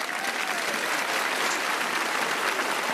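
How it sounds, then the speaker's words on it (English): An audience gives a speaker a round of applause during a live show, dense even clapping throughout three seconds with no pause. "Round of applause for Tim Farrell."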